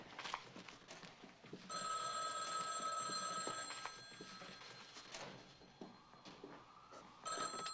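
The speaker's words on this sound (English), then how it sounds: "I'll get the phone" An old-fashioned telephone bell rings in long, loud, continuous trills within a room, a steady metallic jangle that carries on for several seconds over a busy background.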